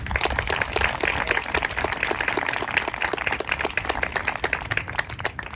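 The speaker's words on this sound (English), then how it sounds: "let's give some more thunderous applause for our senior linebacker, number 23, Piper Jack Gordon" Crowd applauding a senior linebacker at a high school football senior night ceremony, a steady, dense wash of clapping that holds loud and even throughout with no break.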